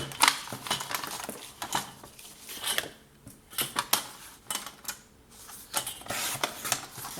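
Scrapbooking cardstock being cut to size with a paper trimmer, heard as close, quiet clicks, sliding scrapes and crisp snips in irregular bursts with brief pauses, no voices.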